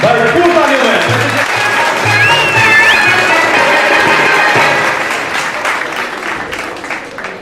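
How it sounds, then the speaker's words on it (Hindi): An audience at an International Nurses Day gathering in a Karachi Salvation Army church applauds steadily, a dense wash of many hands clapping throughout that tapers slightly toward the end, with voices mixed in. "आप सबकी भरपूर तालियों में कराची शहर की जो पहचान है मिस्टर जेकब जावेद आखिर की भरपूर तालियों में"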